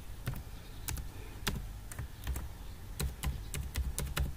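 A password being typed on a computer keyboard, heard as close, irregular clicky keystrokes in short bursts with small pauses between groups, alone with no talking.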